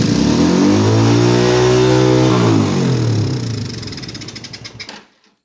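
Engine of a Honda ATC 200E three-wheeler running on a makeshift fuel cell, revving up loud and close with a rising, then falling pitch before cutting out abruptly near the end.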